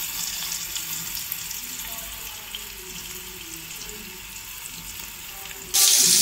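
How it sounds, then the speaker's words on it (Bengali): Garlic paste fries in hot oil beside potatoes, a steady hissing sizzle that holds throughout and jumps to a brighter, louder burst right at the end, with no voices. "এবার আলুটাকে একটু সাইড করে নিয়ে দিয়ে দেবো রসুন বাটা"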